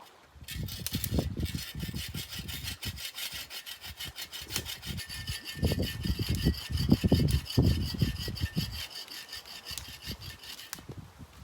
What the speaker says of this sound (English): we've been sawing and stomping and tromping, and got a nice big pile of firewood now